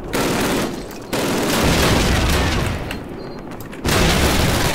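Grenade explosions and rapid gunfire in a World War shooter video game, loud dense bursts of blasts and shots with brief lulls between them.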